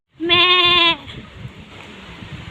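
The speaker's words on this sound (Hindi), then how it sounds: "यहाँ पे मैं एक बकरी दिखाती हूँ।" A goat lets out one loud, close bleat lasting under a second, followed by low outdoor rustling and handling noise.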